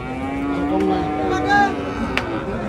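Cattle at a village livestock market moo in a couple of drawn-out, tonal calls over steady crowd murmur and background bustle.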